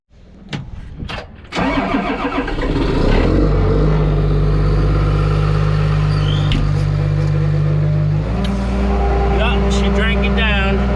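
A Komatsu D51 PX22 bulldozer's diesel engine is heard turning over and catching, then settling into a loud, steady idle with a deep low rumble that holds close and constant, its pitch dropping slightly near the end.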